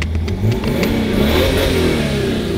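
BMW 330d diesel engine revving hard nearby, a loud, rough, rising roar held steadily for a couple of seconds.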